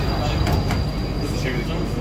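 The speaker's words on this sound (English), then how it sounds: "Train is departing." The Dubai Airport terminal train pulls away from the platform with a steady, close rumble, while indistinct voices carry on in the background.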